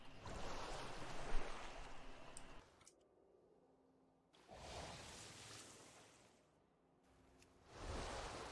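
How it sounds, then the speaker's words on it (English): Water Shield spell effect for a Restoration Shaman in World of Warcraft Dragonflight: bursts of broad watery, surf-like rushing that rise and cut off abruptly, repeating three times with quiet gaps between, loud and alone. "Listen to the sound of Water Shield!"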